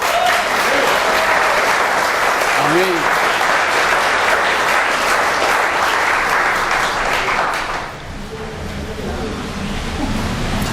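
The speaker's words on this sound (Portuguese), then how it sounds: "Por favor, só os santificados aplaudam o Senhor com alegria." Sustained loud applause from a church congregation at a convention service in Medellín, Colombia, a dense wall of clapping that dips briefly near the end before picking up again, with a voice saying a short word over it.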